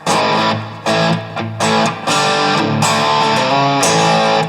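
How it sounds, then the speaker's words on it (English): Loud, saturated electric guitar chords ring out with heavy distortion from a TC Electronic Nova System drive, struck in several sustained bursts with no talking. "That's a great sounding distortion drive there."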